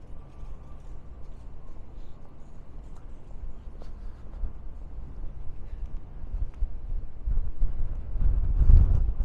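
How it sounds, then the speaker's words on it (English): Gusty wind buffets the microphone on an outdoor walk in Utrecht, the Netherlands, a low rumbling roar that builds and grows loudest toward the end, with no speech. "It's very windy."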